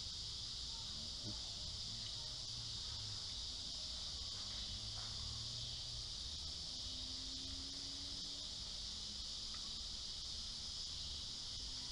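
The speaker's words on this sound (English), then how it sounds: "Love the sound of them cicadas." Cicadas buzz in a steady, high, continuous drone outdoors while pine sap is being rendered, with faint background noise and occasional distant sounds beneath the constant insect hum.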